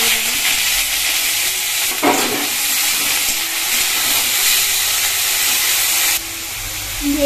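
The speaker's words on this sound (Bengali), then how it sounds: "এবার এইগুলো দিয়ে এই পেঁয়াজ পাতাটাকে একটু হালকা করে ভেজে নেব" Spring onion greens fry in oil with dried chilli and black cumin, a loud continuous hiss and sizzle with stirring scrapes, dropping a little quieter near the end.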